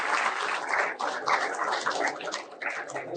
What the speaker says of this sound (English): I request the audience to please give a round of applause to Professor Makis.